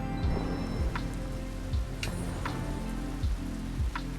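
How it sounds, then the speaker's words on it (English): Steady rain patters across a surface in the video game Sky: Children of the Light, a continuous soft wash punctuated by occasional sharper drops, heard alone at low volume. "there's rain everywhere, I'm scared to explore"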